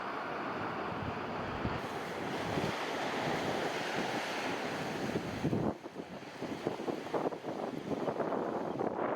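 Ocean waves breaking on a winter beach at Plum Island, Massachusetts, a steady loud wash of surf mixed with wind buffeting the microphone, easing slightly in the last few seconds.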